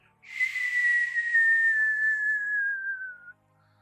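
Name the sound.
wind whistling during video game dragon flight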